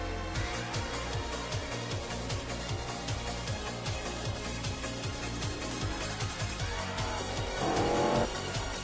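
Race cars roar around the track in the NASCAR Racing 2003 video game, a steady pulsing engine drone with repeated rhythmic passes, a brief louder surge near the end and no talking.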